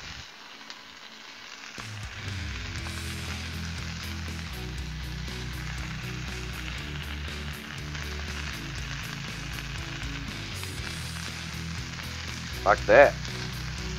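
Burger buns toasting in butter on a Blackstone griddle give a steady, moderate sizzle that begins abruptly and holds, with a brief spoken remark and a couple of soft clatters near the end.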